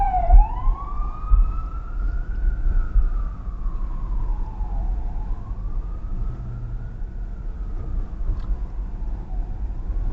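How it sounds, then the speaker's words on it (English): An ambulance siren wails, rising and falling in long sweeps over steady downtown Manhattan traffic rumble, sounding from a moderate distance. "let's see how it handles this ambulance"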